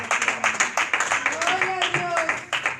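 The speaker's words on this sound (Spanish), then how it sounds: "¿Cuántos dan ese aplauso a la gloria de Dios?" A church congregation claps in a quick, fairly regular rhythm, close and loud, while a voice rises briefly over the clapping partway through.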